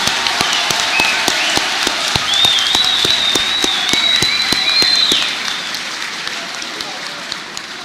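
Audience applause at a lecture at the University of Casablanca, a steady, dense patter of clapping from a large hall held for several seconds, easing off toward the end with a high whistle riding over it.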